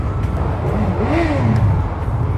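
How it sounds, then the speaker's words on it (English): A Honda car's engine is over-revved, the pitch sweeping up and falling back in a single whining rise over low engine rumble, loud and close inside the car. "Cal, once again, endorsing the over-revving."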